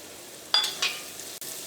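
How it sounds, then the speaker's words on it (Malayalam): Ginger, garlic, green chilli and onion sautéing in coconut oil for a spicy pork roast, a faint steady sizzle with two quick scraping stir strokes close by and a light tap near the end. "ഇഞ്ചിയും വെളുത്തുള്ളിയും പച്ചമുളകും ഒക്കെ വെളിച്ചെണ്ണയിൽ കിടന്ന് നന്നായിട്ടൊന്ന് വഴന്നിട്ടുണ്ട്."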